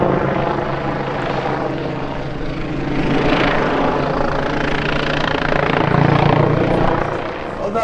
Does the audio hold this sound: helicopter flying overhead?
yes